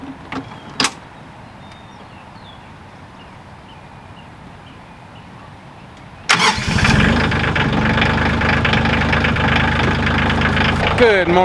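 A tractor engine cranks and fires about halfway through, after a stretch of quiet outdoor ambience with a couple of brief knocks, then keeps running loud and steady close by until the end.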